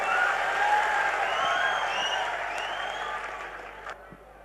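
A concert-hall crowd at a Mumbai show claps in a dense, steady wash of applause with some cheering, gradually fading toward the end.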